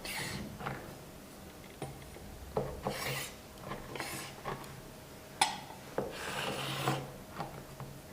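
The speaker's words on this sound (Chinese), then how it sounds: "接下来切成4厘米宽的小条" A knife cuts a rolled sheet of egg-and-flour dough into strips on a board, making soft intermittent scraping strokes and light taps close up, with no speech.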